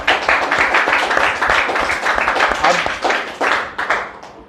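An audience claps together to welcome three parents at an Independence Day celebration in an academy, a dense, loud burst of hand claps that runs steadily for several seconds before thinning out at the end.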